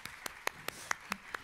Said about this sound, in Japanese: ぜひライアン君に皆様拍手をお送りください